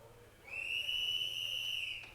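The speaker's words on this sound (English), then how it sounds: "There's the whistle, my man." A single long, steady whistle blast at a STIHL Timbersports Nordic Pro Championship, holding bright and clear for about one and a half seconds over low arena background noise.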